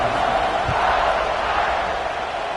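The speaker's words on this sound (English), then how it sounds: "this crowd is buzzing after that last score" A stadium crowd in an American football video game keeps up a steady roar just after a score, a dense, continuous wash of noise with no break.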